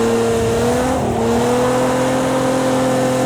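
Nissan GT-R Nismo in a racing video game held in third gear during a drift, a loud continuous engine drone with steady harmonics, a brief dip in pitch near the one-second mark, and tire noise running underneath throughout.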